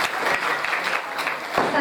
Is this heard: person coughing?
no